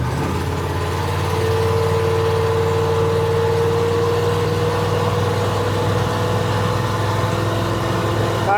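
Small Block Chevy engine with a 950 CFM carburetor running under throttle, a loud continuous low rumble with a slowly rising tone, steady throughout without pauses or talk.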